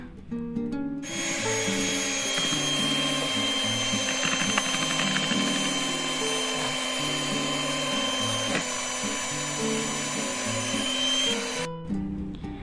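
Electric mixer whipping black sticky rice cake batter until it rises, a loud continuous whirring drone with steady mechanical chatter, close up and with no voices.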